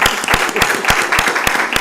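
An audience at a city schools board meeting applauds, a steady wash of clapping with sharp individual claps standing out at a regular beat near the listener.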